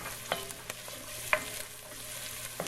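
Onions and garlic fry in a pan over medium-high heat, a steady sizzle broken by a few distinct scraping strokes of a stirring utensil, close and clear with no talking.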